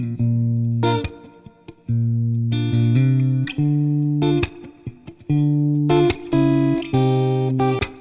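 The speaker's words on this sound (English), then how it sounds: "as sophisticated as a spring reverb gets. Now let's just have a listen to this." A spring reverb effect from the Arturia FX Collection plugin is applied to a series of loud, sustained synth chords, each cut off sharply with a splashy, metallic reverb tail. The phrases repeat in an uneven rhythm, close and alone.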